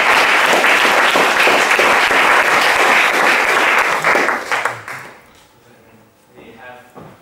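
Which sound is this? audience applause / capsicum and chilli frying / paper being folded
audience applause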